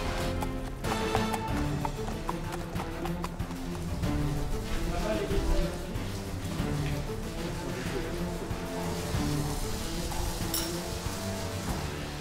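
Horses trot on a training track, their hooves beating in a busy, continuous clip-clop at moderate loudness. A murmur of activity and movement runs behind them.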